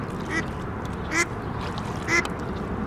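Ducks quack outdoors in three short bursts about a second apart, moderately close, with faint background ambience between the calls.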